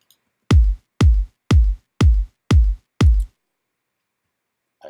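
Six punchy house music kick drum sample hits, evenly spaced about half a second apart, deep booming thumps with quick decays played alone in silence.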